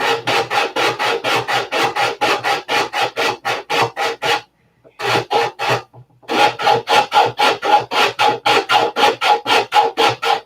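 Sandpaper on a handled backing plate is worked by hand over an aircraft cowl. Brisk, even rasping strokes repeat close up, with a short pause midway before the steady rhythm picks up again.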